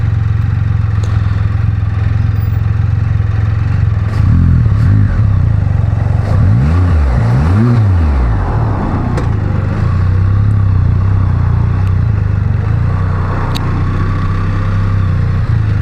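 A Can-Am Spyder F3 S three-wheeler cruises at steady speed with a continuous engine drone and wind rush, its pitch dipping and rising a few times midway as it shifts gears on its own.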